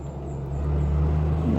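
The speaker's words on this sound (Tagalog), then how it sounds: "Mayroon sasakyan dumaan no." Car passing by on a road after a typhoon, a steady low engine rumble that swells slightly as it draws near, close and fairly loud, heard alone.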